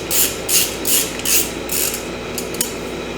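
A hand ratchet clicks in quick strokes while tightening an intake manifold bolt on a 1968 Ford LTD, four loud close bursts of rapid pawl clicking followed by a few shorter clicks, with no talking.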